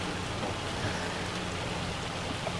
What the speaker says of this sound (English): Oh no, that's the hail. It's hail.